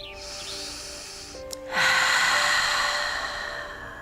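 A single deep breath during an outdoor yoga pose in a park, a soft inhale followed by a stronger, breathy exhale, close and alone with faint background hum.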